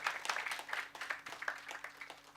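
A seminar audience gives brief, light scattered applause. The irregular handclaps come from a modest crowd and fade after a couple of seconds.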